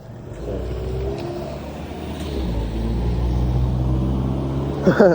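Cars passing by on a road, a low rumbling engine drone that swells as vehicles go past, continuous and fairly close, with a brief louder burst at the end.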